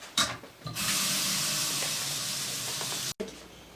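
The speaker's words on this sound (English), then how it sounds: "I'm going to rinse these off." Tap water runs steadily as vegetables are rinsed under it for a pizza, a continuous close hiss and splash lasting nearly the whole time with a brief cutoff near the end.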